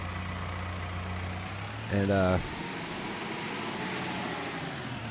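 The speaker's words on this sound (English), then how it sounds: "So this is our new small tractor" Small tractor engine idling in Farming Simulator 22 on a Siberian farm, a steady low hum with a brief spoken word over it.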